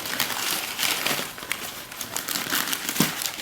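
Brown packing paper is crumpled and pushed aside while a box of exhaust fans for a shed is unpacked, giving a close, continuous crinkling and rustling with irregular louder crackles.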